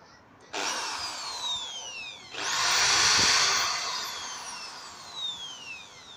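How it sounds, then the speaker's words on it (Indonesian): An electric drill whirs up to speed twice, a high steady whine that rises and fades, loud and close. "bor ini memiliki suara yang halus ya"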